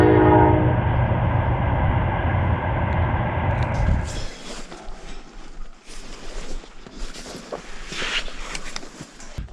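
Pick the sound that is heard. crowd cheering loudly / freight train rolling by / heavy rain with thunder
freight train rolling by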